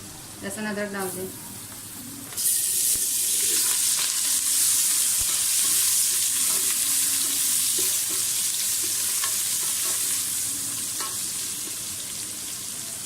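Garlic and ginger frying in hot oil with whole garam masala for a chana dal pulao, a loud steady sizzle swelling after a brief stir at the start and holding for the rest, with a voice faintly underneath.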